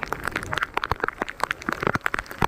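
Heavy rain pours down over farmland in a dense, loud, close drumming of countless drops striking a surface, with sharp cracking taps scattered through a steady roar and no voices.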